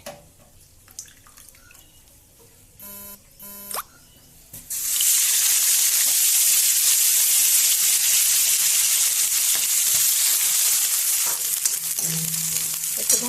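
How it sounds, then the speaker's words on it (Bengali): Soaked dried fish drops into hot oil in a pan and bursts into a loud, continuous sizzle that holds steady, after a few quieter kitchen clatters and a short tap-like rush. "আর এই মাছটা ভেজে সবজিগুলো দেবো এর মধ্যে।"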